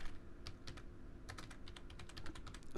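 Quiet, close typing on a computer keyboard, a quick irregular run of light key clicks with brief gaps.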